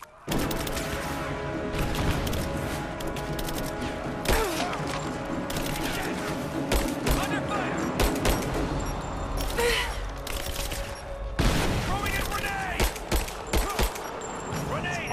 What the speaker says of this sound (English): All you do is throw grenades, dude.